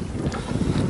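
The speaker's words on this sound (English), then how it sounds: "Finally sailing, we were motoring most of the day." A sailboat under sail in Panamanian waters off Costa Rica, heard as a steady rush of wind and water against the hull, with microphone wind buffeting throughout and no voices.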